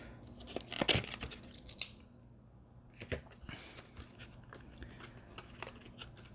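A knife slicing through the plastic and cardboard packaging of an M2 Machines 1957 Dodge Coronet police car model, giving a few sharp close scratching cuts and tearing rasps, then quieter rustling and handling.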